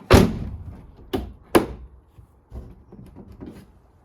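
An upper window latch on a Crazy Carbon GTR race car clicks shut with a sharp close-up clunk, followed by two more quick snaps and some faint rattling handling noises.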